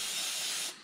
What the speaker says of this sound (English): I'm going to go ahead and clean around the oil fill with some Brake Clean.